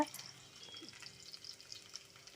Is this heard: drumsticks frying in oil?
yes